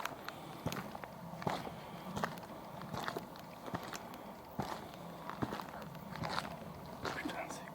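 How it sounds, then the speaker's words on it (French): Footsteps near a forest shed come as irregular crunching steps and crackles that go on throughout, quiet and fairly close, with soft whispering speech mixed in. "il y a des bruits de pas ou peut-être des bruits d'animaux"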